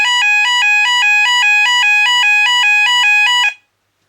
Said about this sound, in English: Next one is the high-pitched warble sound.